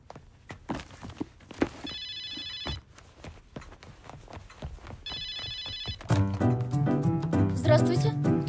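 A telephone rings in two bursts of electronic trilling, separated by quieter footsteps and room sounds, before music swells in the final seconds.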